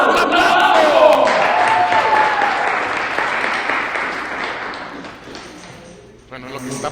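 An audience at a Sunday church service breaks into loud, dense applause with some cheering, which gradually fades over several seconds before a voice resumes near the end.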